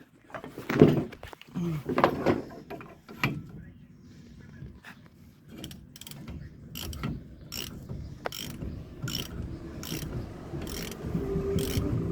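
Ratchet wrench cranking on the front passenger axle of a 2009 Nissan Rogue with a 2.5 L engine, a series of sharp, evenly spaced clicks following some earlier clunks and rattling, close and moderately loud.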